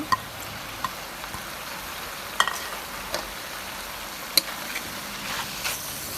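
Chicken, sour bamboo shoots, kaffir lime leaves, holy basil and red chili sizzle and crackle in a hot pan with occasional scraping clicks of stirring, a steady frying hiss throughout, no voices.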